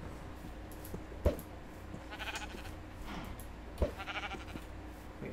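Sheep in the video game Minecraft bleat several times at a moderate level over a steady game background, with a couple of sharp clicks in between.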